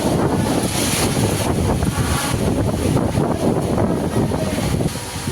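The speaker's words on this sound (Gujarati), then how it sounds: "નીકળો પવન પાછો." Strong wind blows hard during a rainstorm, buffeting the microphone with loud, gusting rumble and roar that surges and eases in waves before dropping slightly at the end.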